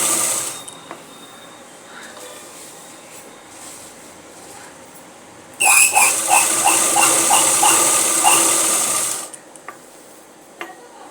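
An electric sewing machine stitches a folded fabric edge in a steady rapid mechanical whir of about four seconds, starting abruptly and stopping cleanly, close and loud over quiet room tone.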